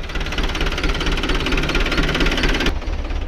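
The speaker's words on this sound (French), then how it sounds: "Allez, on va continuer. Mon petit tracteur." A small tractor engine runs steadily during hoeing of sunflower rows, a loud, close knocking diesel rumble with rapid regular beats that cuts off abruptly near the end.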